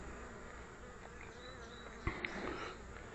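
Honeybees hum in a dense, steady drone from a packed colony as hive frames are handled, fairly close and soft, with a couple of brief knocks partway through and no talk.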